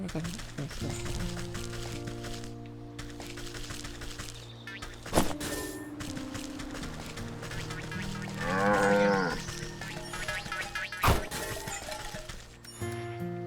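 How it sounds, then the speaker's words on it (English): A video-game cow gives one long, drawn-out moo midway, set against looping game music with occasional clinks and crashes. "From our new friend, the cow."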